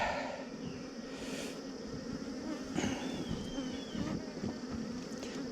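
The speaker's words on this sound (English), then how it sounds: "Look at all those bees." Honey bees swarm and buzz around an opened hive outdoors in Texas, a dense, steady hum of many insects with individual bees droning past close by.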